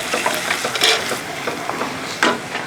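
Ginger and garlic frying in oil for a lemon pickle, stirred steadily, with a continuous close sizzle broken by soft scraping strokes and a few sharper clinks of a utensil against the pan.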